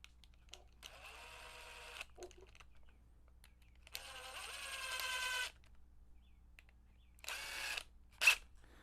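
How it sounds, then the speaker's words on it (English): A power driver runs screws into a gate actuator servo box in three separate bursts, each a close, high motor whine lasting about one to two seconds, with quiet gaps and a short click at the end. "So I use the driver to just get them part of the way in or most of the way in"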